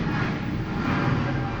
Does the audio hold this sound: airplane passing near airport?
yes